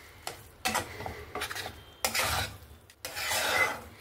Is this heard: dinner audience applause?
no